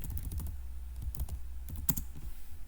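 Keywords are typed on a computer keyboard, with quick irregular key clicks and taps close up, heard alone with no talking.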